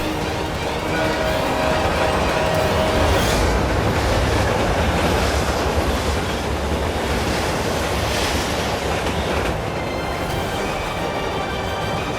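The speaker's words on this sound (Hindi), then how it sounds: "ट्रेन अपनी तरफ आ रही है।" A train approaches on rails in a Hindi TV drama scene, producing a steady, loud rumbling roar with a dense clattering texture that continues throughout without speech.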